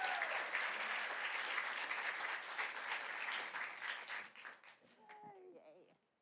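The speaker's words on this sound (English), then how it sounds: "So give a big round of applause for Sorby Grant." Applause from a conference audience welcoming a nonprofit president and CEO on stage, steady and fairly full before tapering off over the last two seconds, with a voice briefly emerging at the end.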